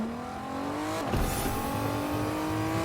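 A video game car accelerating under boost: a rising engine whine climbs steadily, then a loud whooshing burst kicks in just past a second and a strong, revving drive carries on to the end, with no talking.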